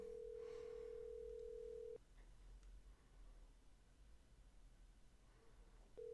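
A faint, steady telephone ringing tone sounds, one long buzz, a pause of quiet line hiss, then the next ring begins.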